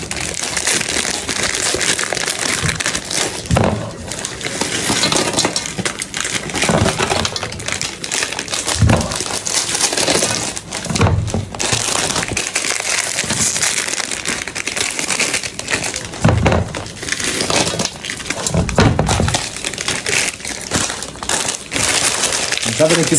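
Crinkling and crushing of a plastic bag of spicy snacks, a steady rustle running through the whole stretch with denser bursts of crunching and handling. Someone talks now and then over it.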